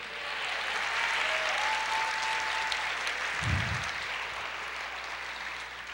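A church congregation applauds during a Portuguese-language sermon, a steady broad wash of clapping that holds through the whole stretch, with a low thump near the middle.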